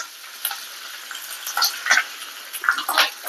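Mustard seeds, cumin and curry leaves sizzle and crackle in hot oil in a pan, with scattered sharp pops over a faint steady hiss.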